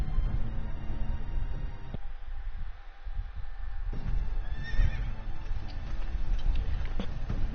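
A horse whinnies and hooves clip-clop in a Game of Thrones video game, steady hoof beats throughout with neighing and faint ambient effects, close and clear without talk.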